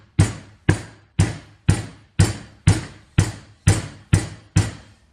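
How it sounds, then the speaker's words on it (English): Mallet taps on parts of an RB3 X gantry during assembly, ten evenly spaced sharp knocks about half a second apart, close and clear with no talking. "You can use the small end of the mallet to actually tap it down in between."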